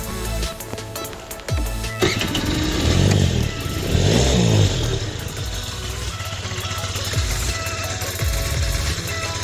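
A scooter engine runs nearby, idling unevenly before its revs swell and fall between about two and five seconds, then settling back to a steady running hum.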